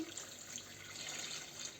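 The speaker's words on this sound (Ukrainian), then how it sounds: "тепер заливаємо бажано теплу водою" Warm water poured into jars of pickled cucumbers for a Polish-style sweet-and-sour pickle recipe, a continuous close splashing gush that runs steadily without pause and with no speech.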